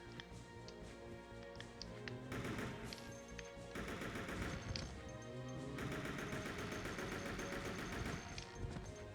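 Rapid automatic AK rifle fire in the video game Resident Evil Code Veronica X, loud sustained bursts of shots with brief pauses between them, no talking.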